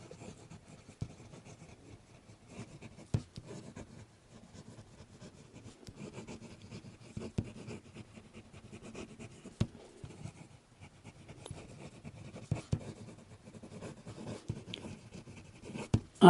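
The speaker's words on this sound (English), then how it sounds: "lift up the nib without knowing it, but there really is not any problem with the writing. Fast writing." A fountain pen nib, a Knox Aristotle, scratching quickly across paper in continuous strokes, soft close scraping broken by small taps as the nib lifts and lands, with no talking.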